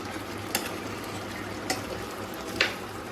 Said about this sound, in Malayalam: അവിയൽ റെഡി ആവുന്നുണ്ട് ഇളക്കി കൊടുത്തേക്കാം